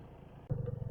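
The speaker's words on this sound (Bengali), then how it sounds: "সত্যি ভাই গাড়িটার ইঞ্জিনে রীতিমতো আওয়াজ চেঞ্জ হয়ে গেছে।" A 100cc motorbike engine labours uphill in second gear, a low, throbbing idle-like hum that abruptly steps up to a louder, pulsing rumble halfway through.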